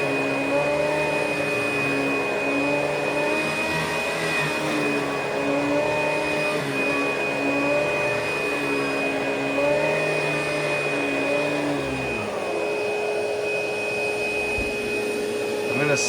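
ProTeam and Hoover vacuum cleaners run continuously nearby, a steady whining motor drone with a high tone whose pitch wavers as the machine moves, then drops slightly near the end.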